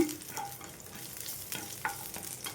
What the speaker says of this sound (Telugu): ఇదే ప్యాన్లో 1 టేబుల్ స్పూన్ వరకు ఆయిల్ వేసేసుకున్నాను. ఇందులో కచ్చా పచ్చగా దంచుకున్న 10 వెల్లుల్లి రెబ్బలు అయితే వేసేసుకుందామండి.